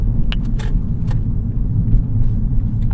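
A 2013 Mazdaspeed 3 turning a corner on all-season tires, with steady low road rumble and engine drone inside the cabin and a few faint light clicks and rattles.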